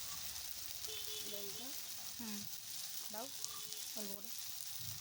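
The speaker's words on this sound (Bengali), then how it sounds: "দেখো, পেস্ট ভাজা হয়ে গেছে। এবার এতে দিয়ে দিচ্ছি পরিমাণ মতো হলুদ" Spice paste for a boal fish curry fries in a pan with a steady, even sizzle, while a voice talks over it throughout.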